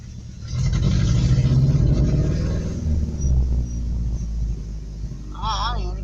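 A broken-down truck's engine cranks and then rumbles low and steady at close range, with faint speech in the background.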